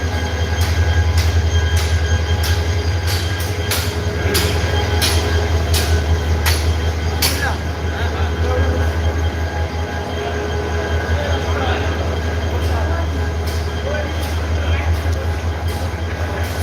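A passenger train bound for Cox's Bazar, with a steady, loud low rumble of rolling wagons and repeated sharp wheel-on-rail clicks and squeals running throughout, while voices murmur faintly in the carriage.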